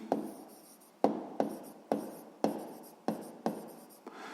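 A pen writes down a math solution on paper in about eight short, close scratching strokes at a steady rhythm, quiet and alone.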